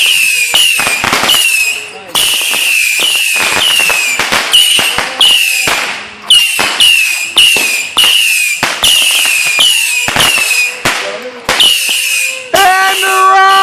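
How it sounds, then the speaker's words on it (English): Fourth of July fireworks go off in rapid, loud bursts of crackling and popping with whistling shrieks, while people nearby shout and talk excitedly throughout. "We're shooting off fireworks right now, man."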